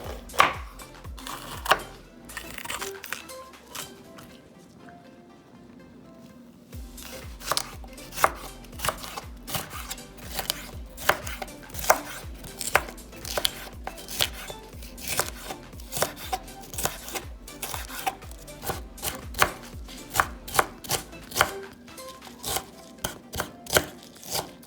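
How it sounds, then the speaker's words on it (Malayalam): A knife chops green capsicum on a board in a steady run of crisp, close taps. The rhythm pauses briefly near the start, then the chopping resumes and carries on quickly and evenly, with no talking. "ഇനി ഞാൻ ഗ്രീൻ ക്യാപ്സിക്കം മുറിക്കാൻ തുടങ്ങുകയാണ്."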